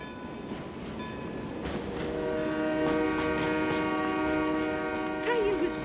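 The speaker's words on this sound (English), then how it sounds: "I hear the train" Cartoon train rumbling closer with a long, sustained horn blast that grows louder over several seconds, steady rail noise underneath and no talking.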